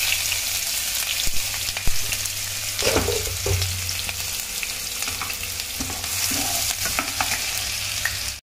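Chopped onion and green chili hit hot oil with cumin seeds in a pan, a close crackling sizzle with stirring clatter and a few sharp spoon knocks, steady and loud without speech.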